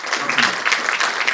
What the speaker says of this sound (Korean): 박수 소리 쳐주십시오